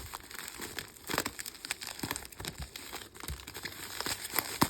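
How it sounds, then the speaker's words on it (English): Crinkling and tearing of a plastic bag as a Simplex 4903-9427 Free Run TrueAlert fire alarm horn strobe is unbagged, a steady run of close crackles and rustles with sharper rips throughout. "let's go ahead and unbag this thing"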